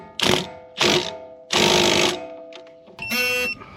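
A ratchet wrench with an 18 mm socket works on a front strut bolt of a Dodge Charger in four loud, close bursts of rapid clicking separated by short pauses.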